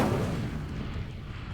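A fire spell is cast in Hogwarts Legacy, heard as a loud, dense whooshing roar that bursts in at full strength and slowly fades over about a second and a half.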